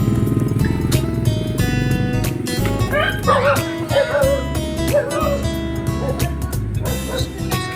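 Dogs bark and yip repeatedly, fairly close, over a steady background hum with some voices mixed in.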